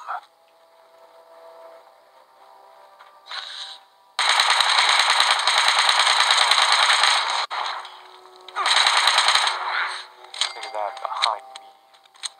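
Rapid gunfire from a weapon in the video game Fallout 76, with a long sustained burst and a shorter second burst followed by scattered shots, loud against quieter game ambience.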